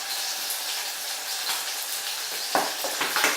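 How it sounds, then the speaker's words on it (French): Wakame and scallops sear in olive oil in a pan, a bright continuous hiss and crackle with a few louder spatters and stirring scrapes toward the end. "Donc saisis aussi un petit peu à l'huile d'olive."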